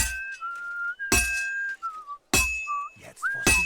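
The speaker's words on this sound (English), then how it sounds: "Better get some good whistling here." A game character whistles a wandering tune in short phrases while working in Kingdom Come: Deliverance 2, with sharp clinks of metal or glass breaking in between, close and clear.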